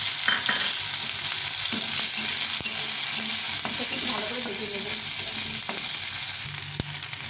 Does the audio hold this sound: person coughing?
no